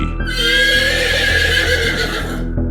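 A loud, close horse whinny rings out for a couple of seconds, a shrill quavering neigh over a low steady hum.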